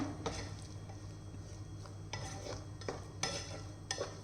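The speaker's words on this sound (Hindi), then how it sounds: "इसे हम ज़रा अच्छी तरह से हिलाते हैं, मिक्स करते हैं।" A spoon stirs garlic pickle with black pepper in a pan after the gas is switched off, making a run of close scraping and clinking strokes at an uneven pace over a low background hum, with no voices.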